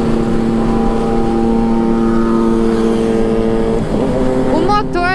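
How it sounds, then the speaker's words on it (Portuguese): Kawasaki Vulcan 650 S motorcycle with its parallel-twin engine shared with the Z and Ninja, humming at a steady cruising pitch while riding, loud and continuous with wind noise, someone talking over it. "O motor dela, como eu disse, é o motor da Z, o motor da Ninja."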